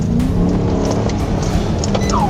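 A small black passenger car accelerates hard while fleeing police, its engine droning loud and steady with a brief tire squeal and rising whine near the end.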